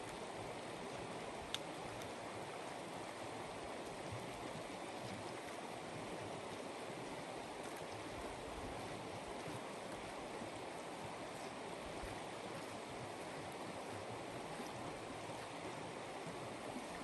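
The Sun River in the Bob Marshall Wilderness of Montana flowing just beyond a screen of bushes, a steady broadband rushing wash that stays constant and unbroken for the whole stretch, with no voices.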